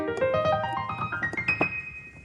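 An arpeggio rising quickly across a piano without the sustain pedal, each note clipped short so the run sounds choppy and dry, heard alone and close.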